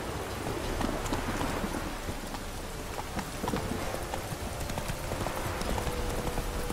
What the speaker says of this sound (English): Call back my horse